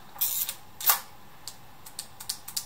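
The shutter release lock on a Praktica PL Nova 1 film camera is turned, giving a few sharp, close mechanical clicks: two stronger ones early, then a string of lighter ticks.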